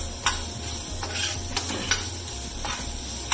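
Marinated masala for fish curry fries in oil in a pan, a steady close sizzle broken by repeated stirring scrapes at an uneven rhythm, with no voices.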